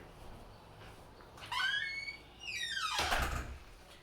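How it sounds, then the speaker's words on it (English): A door is shut nearby, a squeaky sliding creak followed by a louder scraping sweep and a dull thud, with room noise throughout. "I'm going to shut my door real quick"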